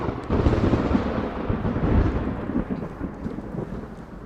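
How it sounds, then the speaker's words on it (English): Thunderstorm stage effect for a musical: a deep, rolling thunder rumble blended with steady rain hiss, loud and continuous throughout with no voices. "The storm is upon us."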